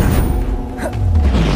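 Bombarda spell explosion in Hogwarts Legacy: a loud, close, deep boom that rumbles through the whole short moment, with a brief swell near its middle.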